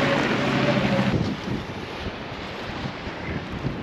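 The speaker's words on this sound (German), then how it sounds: "Es ist so unfassbar laut durch den Wind." Strong wind on an open seaside coast buffets the microphone, a loud, continuous roaring rumble that eases slightly partway through but keeps blowing to the end.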